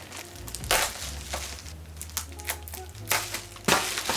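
Plastic packaging around an SW-Motech short fender for a Yamaha XSR 700 is pulled open, giving close crinkling and crackling bursts that rise and fall irregularly, with a few louder rustles.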